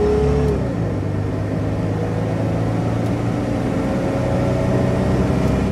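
A Mercury Cougar with the base V6 engine accelerates, a steady, moderately loud engine drone that rises slightly in pitch, with no speech.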